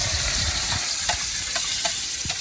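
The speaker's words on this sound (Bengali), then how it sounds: "তোর রান্না করার জন্য পেঁয়াজগুলো এখন ভেজে নিব।" Onions fry in a hot kadai, giving a steady, close, dense sizzle with soft scraping stir strokes every half second or so; no one speaks.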